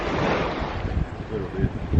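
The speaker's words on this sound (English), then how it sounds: "It's pretty windy, eh?" Wind gusting across a fishing boat at sea, rough buffeting rumble against the microphone with swells of wind noise and some water wash, fairly loud and uneven.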